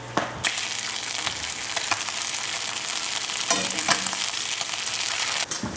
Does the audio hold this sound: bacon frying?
yes